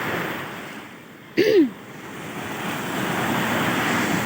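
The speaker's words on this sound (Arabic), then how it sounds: "كفاية صوت البحر والجو" Sea waves wash continuously onto Alexandria beach in a steady, broad roar with some wind, briefly interrupted by a short high-pitched call near the middle.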